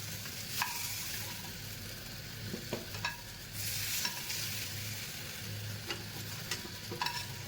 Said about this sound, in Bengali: এইভাবে আলুগুলোকে ভালো করে ফ্রাই করে নিলাম।